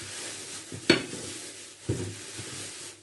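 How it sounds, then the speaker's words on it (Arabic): A spoon stirs basbousa batter with lemon zest in a bowl, giving soft, close scraping swirls with two brief clinks against the side, quiet and alone. "نخلط هاد المكونات مزيان مزيان مع بعضها"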